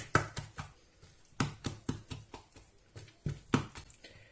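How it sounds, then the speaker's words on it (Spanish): Oiled hands work sticky Moroccan sfench churro dough, giving soft slapping and squelching pats in irregular clusters, close and fairly quiet, with short pauses between groups. "Esta es la forma de amasar el churro marroquí que se llama sfench"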